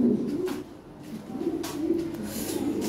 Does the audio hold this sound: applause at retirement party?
no